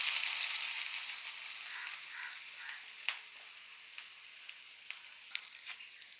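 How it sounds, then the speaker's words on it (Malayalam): Chopped onions sizzle in hot oil, a dense and close frying hiss that eases slightly over time, with occasional sharp pops and stirring clicks and no voices. "ചെറുതാക്കി അരിഞ്ഞിരിക്കുന്ന നമ്മുടെ സവോള ഒന്ന് വറുത്ത് കോരണം"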